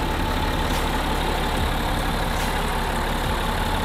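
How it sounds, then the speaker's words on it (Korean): A BMW X5 xDrive 30d diesel engine idles with the bonnet open, giving a steady, even, continuous drone at close range with no talking. "엔진 소리도 일정하네요."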